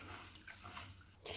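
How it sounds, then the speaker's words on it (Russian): Faint running water splashing and trickling as buckwheat is rinsed under a tap, continuous with a brief louder gush at the end. "Гречку обязательно очень хорошо промываем."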